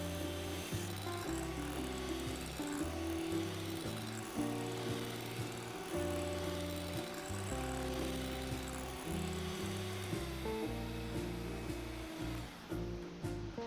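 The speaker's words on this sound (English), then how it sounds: "Increase the speed to high and whisk for about 8 to 9 minutes until the meringue can easily form a shape." An electric mixer on high speed whisks egg whites into meringue for a honey castella cake, a steady close motor whir with the beaters clattering rhythmically in the bowl and the pitch wobbling slightly throughout.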